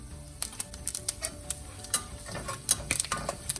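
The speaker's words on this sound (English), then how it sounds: "And now add cumin seeds" Cumin seeds dropped into hot oil with cardamom, black pepper and black cardamom: a faint, steady crackle of sharp pops and ticks scattered irregularly through the clip, close by and quiet.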